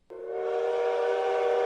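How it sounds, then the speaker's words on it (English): A train whistle sounds in the video game Welcome to the Dark Place as one loud, sustained steam-style blast that starts abruptly and holds steady with a breathy hiss. "There it is. That's the train."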